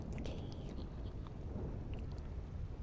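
A storm with thunder and rain is heard from inside a taxi in a GTA-style setting. It is a soft, continuous wash of rain with a low rumbling undertone, faint and steady with no speech.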